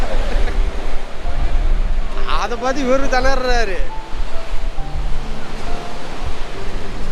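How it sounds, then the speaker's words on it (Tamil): Strong wind at the seaside in Pondicherry roars steadily into the microphone in a constant broadband rush, with someone speaking briefly over it partway through. "காற்று பயங்கரமாக இருக்குது பாருங்க. செம்ம காற்று அடிக்குதுல்ல."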